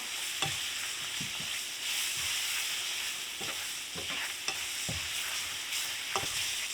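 A roux of ground beef and flour frying in a pan while being stirred, a soft constant sizzle punctuated by repeated scraping strokes and light clicks of a utensil against the pan.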